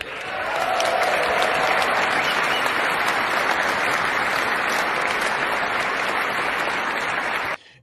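A political speech audience breaks into loud, sustained applause that holds steady for about seven seconds, dense clapping from a large crowd, then cuts off abruptly at the end.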